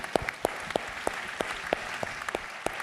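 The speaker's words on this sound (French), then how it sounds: "on peut applaudir Lumière de verre." Applause at an award ceremony for a glass lighting innovation, heard as sparse, evenly spaced sharp claps standing out over a soft bed of broader clapping, steady and fairly close.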